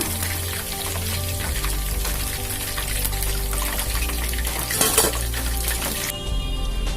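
Prawns for prawn 65 frying in hot oil, a steady dense sizzle filling the whole stretch with a brief louder crackle midway, close and continuous with no talking.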